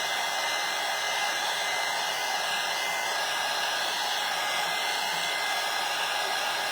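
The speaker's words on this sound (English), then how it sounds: "I'm going to just hit this with the dryer real quick" Steady broadband roar of a hair dryer blowing air over a Gelli print plate while making art cards, close and loud, continuous throughout with no talking.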